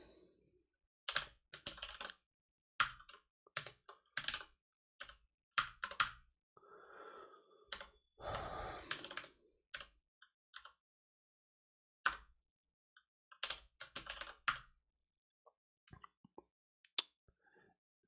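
Bursts of computer keyboard typing while working in Haskell code, with short clusters of keystrokes separated by pauses and a brief louder rustle midway; close and fairly quiet, with no talking.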